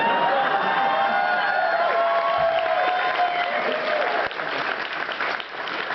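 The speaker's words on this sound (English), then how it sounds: "thank you for your smattering of applause" A live convention audience at Dragon*Con gives a sustained smattering of applause, dense clapping with faint cheering, slightly thinning toward the end, with no speech over it.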